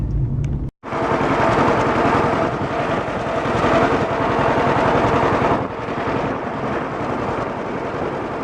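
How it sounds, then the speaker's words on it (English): A farm tractor's engine runs loud and close through its exhaust, drops out for a moment, then returns as a steady, throaty rumble with a rapid pulsing beat that eases slightly near the end. "listen to my exhaust. Don't that sound sick?"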